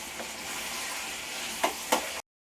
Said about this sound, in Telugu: కొంచెం ఆయిల్ ఎక్కువగానే వేసాను చికెన్ అయితే వేసుకుంటున్నాను